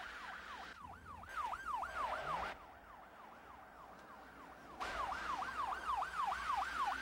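A police car siren wails during a high-speed pursuit, its rising and falling tone repeating in a steady rhythm and growing louder or softer in abrupt steps.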